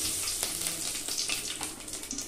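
Whole cumin seeds sizzle in hot mustard oil, tempering for a duck curry. The steady, close crackling and hissing has small pops scattered through it, and no one speaks.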